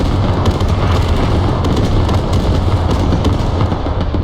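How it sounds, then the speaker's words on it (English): Dense artillery barrage in a tactical war video game, a continuous loud rumble of overlapping booms and blasts with rapid crackling bursts throughout, no pauses. "especially to outweigh this artillery strike, so long as they stay indoors"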